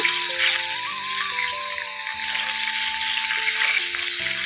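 Mustard seeds and curry leaves sizzle in hot oil as a steady, bright frying hiss, with soft tonal music playing underneath throughout.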